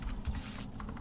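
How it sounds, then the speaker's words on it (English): Brief, soft patter of computer keyboard keys during an Among Us game session, with quick, light taps close by over a muffled background. "I'm just typing random stuff in the chat now."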